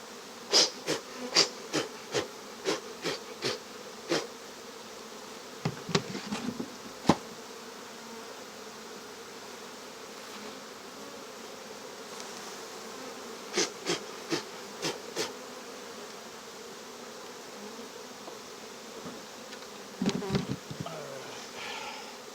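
Honey bees buzz around an open beehive, close by. Loud buzzing passes come in clustered bursts over a constant low drone of the colony.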